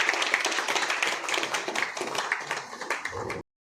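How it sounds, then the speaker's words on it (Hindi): A crowd claps at an Ayurveda company's anniversary celebration in Amarkantak, brisk clapping that holds steady for a few seconds and then stops abruptly. "ताली बजनी चाहिए।"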